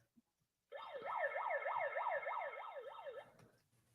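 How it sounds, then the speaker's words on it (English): A rapid warbling siren, like a handheld megaphone's, whoops up and down about eight times over nearly three seconds, then cuts off into near silence. "And then I throw that siren on"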